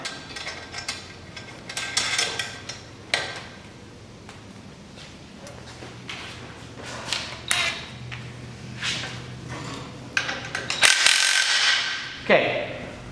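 A ratcheting wrench tightens a bolt and nut on a Model 1000B-3 mechanical transplanter, with rapid clicking bursts repeating in short strokes, close and fairly loud, mixed with metallic clinks and handling knocks.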